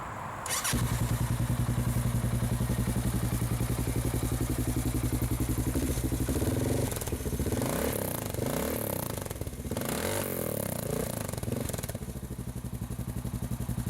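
A 2003 Honda Rincon 650 ATV engine with nitrous starts up and runs loudly and close by, with a steady buzzing drone and some uneven revving and clattering partway through.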